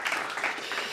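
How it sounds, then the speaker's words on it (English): A brief burst of steady group applause, a dense wash of many hands clapping at moderate distance, lasting about a second with no talk over it. "he should get a round of applause."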